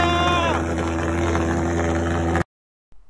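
A homemade valveless pulsejet engine on its first successful test run roars loud and steady with a strong low-frequency drone and harsh buzzing overtones, then cuts out abruptly into silence near the end.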